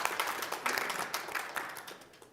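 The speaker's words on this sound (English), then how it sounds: "I would like us all to give her a round of applause because you nailed it." An audience at a congregation service claps for a member's reflection, a short burst of dense applause that gradually tapers off.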